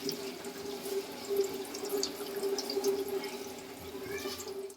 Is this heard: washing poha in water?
yes